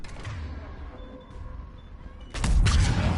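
Gunfire and explosions in the video game Mass Effect 3, low rumbling blasts and shots that swell into a loud burst near the end.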